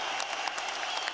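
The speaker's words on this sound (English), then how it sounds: "A rapturous applause, and justifiably so" Fight-event crowd applauding after a bout, a brief, moderately faint burst of steady clapping.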